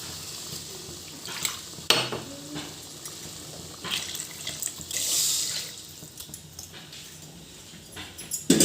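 Water is poured from a blender jar into a pot of thuthuvalai rasam. It makes a continuous splashing, trickling flow with a few clinks and stirring noises, and no one talks.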